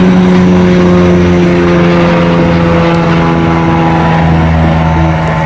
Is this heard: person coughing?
no